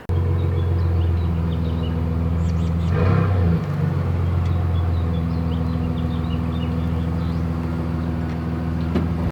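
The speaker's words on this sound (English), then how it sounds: "Now the next thing will be to back the truck up." A pickup truck idles and rumbles steadily nearby as it reverses toward a trailer hitch, its engine swelling briefly before settling back into a constant low drone, with no talking.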